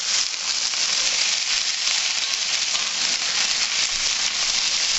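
Potatoes frying in a pan, a steady bright hissing sizzle that holds evenly from start to finish, close and fairly loud with no talk.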